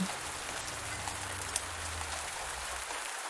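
Steady rain falls in the farming video game Pumpkin Days, a soft, even hiss of drops on surfaces with a faint low rumble beneath and no voices.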